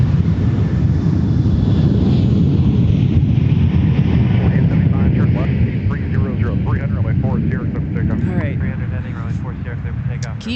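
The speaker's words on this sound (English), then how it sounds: "rolling already is Delta 2415 to Indianapolis, a 73-9ER" A Delta Boeing 737-900ER airliner rolls for takeoff, giving a loud, steady broadband jet roar with wind buffeting, and a voice talks over the second half.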